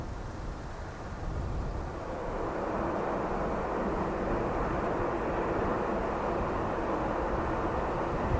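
A Ryanair jet from Gatwick landing at Dublin Airport in windy conditions gives a broad, rushing engine roar that swells and then holds steady at a moderate distance, with no voices.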